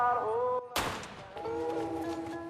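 Gunshots ring out in a movie scene, one sharp loud blast cutting in abruptly after a brief silence, with music and background tones continuing around it.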